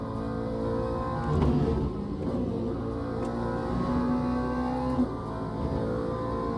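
A race car engine in the Le Mans Ultimate video game drones and revs at moderate volume, with a brief throttle swell midway and a steady whining pitch, and no voice over it.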